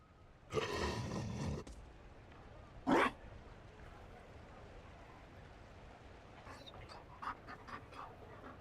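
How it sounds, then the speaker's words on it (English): A Mabari war dog pants heavily in Dragon Age: Inquisition, one breathy burst followed by a short louder huff, then quieter clicks and small sounds over a soft game ambience. "You found a dog? They don't breed Mabari in Orlais."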